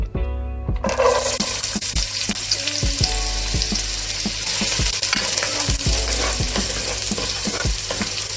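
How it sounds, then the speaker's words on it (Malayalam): Two chopped onions fry in hot oil in a pan for chicken vindaloo, giving a loud, constant sizzle with rhythmic clicks and scrapes of a spatula stirring throughout. "ഈ സവാള ഒരു ഗോൾഡൻ കളർ ആവുന്നത് വരെ നമുക്കത് വഴറ്റിയെടുക്കണം."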